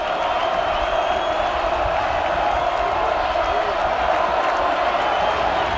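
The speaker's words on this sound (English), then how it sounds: "Crowd trying to get into it on 3rd and 4" A college football stadium crowd at Georgia State versus Georgia Southern roars steadily on third and four, a dense continuous wash of cheering and noise throughout, with voices blended in.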